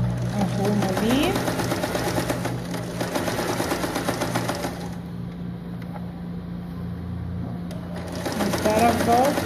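A sewing machine runs steadily while stitching a shirt collar, its motor buzzing in a continuous stretch, pausing briefly near the middle before resuming, with a person talking over it throughout.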